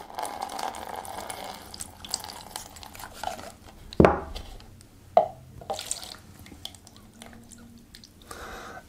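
Thick liquid silicone drips while a rubber bike grip is cast in a mold. Two distinct drops land a second apart against quiet background handling noise.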